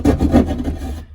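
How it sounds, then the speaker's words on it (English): A drywall knife cuts around a traced outline in drywall, a quick series of three or four close rasping strokes lasting about a second, with no talk. "grab your drywall knife, or you can use an X-Acto knife and just cut around that tracing"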